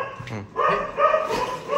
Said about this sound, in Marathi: कुत्र्याने कुत्र बुकत आहे, पण नवीन माणूस आला की बुकत लगेच